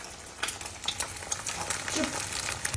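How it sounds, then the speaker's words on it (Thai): An egg frying sunny-side up in a pan, a close, steady sizzle and crackle broken by light taps and scrapes of a utensil against the pan. "เดี๋ยวทอดไข่ก่อน"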